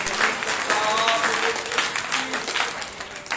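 A congregation at a Sunday church meeting claps steadily and densely for the whole stretch, loud and continuous, with a voice speaking over the applause.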